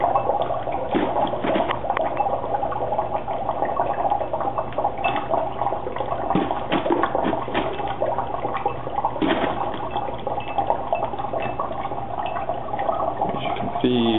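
Dry ice dropped into boiling water bubbles and churns vigorously, a steady dense gurgling and hiss heard close, continuous throughout.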